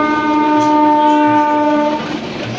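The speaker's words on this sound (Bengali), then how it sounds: "ঠিক তখনই দূরে দেখতে পেলাম একটা ট্রেন ধীরে ধীরে চলে যাচ্ছে।" A train rolls slowly past a village wetland in Bangladesh, sounding a long, steady horn blast for about two seconds over a low rumble that carries on after the horn stops.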